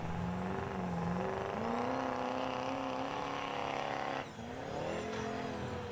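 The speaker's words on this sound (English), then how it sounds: "And next up we got a Duramax Chevy Power here. Pulling off the line." A Duramax Chevy diesel truck pulls off the line at a truck pull in Fishersville, Virginia, its engine roaring loud and rising in pitch for several seconds, a short dip, then pulling hard again.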